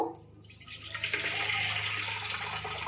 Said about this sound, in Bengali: এবার জল দিয়ে দেব। খুব একটা বেশি জল দেবো না।